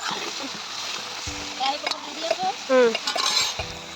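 Food frying in a pan is stirred at an outdoor family picnic, with scraping and clinks of a utensil against the pan over a soft sizzle, while voices talk nearby.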